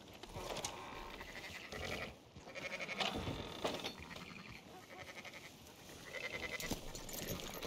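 Several sheep bleating in overlapping calls in Red Dead Redemption 2, fairly close, with a busy outdoor ambience and no talking.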